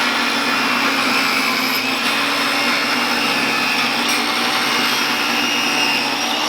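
A table saw runs with a loud, steady, high whine that holds even throughout, close by and with no voices over it.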